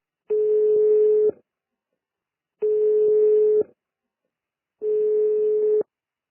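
A telephone ringback tone sounds while a call connects: three evenly spaced, steady-pitched tone bursts about a second long, each followed by a short silence, heard alone and close with no talking.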